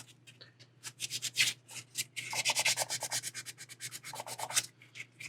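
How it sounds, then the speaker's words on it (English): A superfine sanding sponge of about 400 grit is rubbed over a mold line on a quarter-scale Deadpool figure, giving close, quiet rhythmic scratchy strokes in quick bursts over a low steady hum. "I just followed up with the superfine sanding sponge, which is about 400 grit sandpaper"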